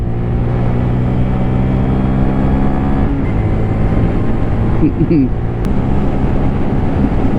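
A 2023 Honda Grom motorcycle's engine droning steadily while riding at speed in fourth gear, with constant wind rush and a brief shift in pitch midway, a rider talking over it.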